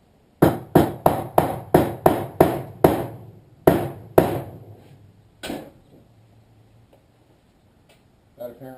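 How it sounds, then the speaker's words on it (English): Hammer blows striking a stake out pole to force it to fit, a fast run of sharp evenly spaced whacks, then a few slower hits tapering off, close and loud. "Beat it with a hammer."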